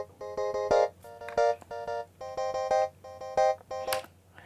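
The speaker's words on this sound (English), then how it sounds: "And we have this track, which is like a clean electric guitar" A clean electric guitar played without an amp in Logic Pro, plucking short arpeggiated chord patterns in a steady repeating rhythm with bright, ringing harmonic tones, heard alone and close.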